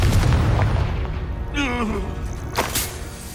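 A Confringo fire spell from the Hogwarts Legacy game bursts with a deep booming explosion, followed by a rumbling tail, a brief whooshing sweep and a sharp crackle, loud and close.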